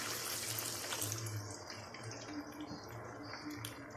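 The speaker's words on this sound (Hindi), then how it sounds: "अब हम इसमें 1 कप पानी डालेंगे।" A cup of water is poured into a pot of chicken karahi with black pepper, making a soft, steady splashing and trickling that stays faint and continuous, with no talking.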